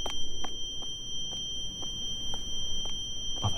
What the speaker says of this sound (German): Oh, was ist das? Eine Alarmanlage?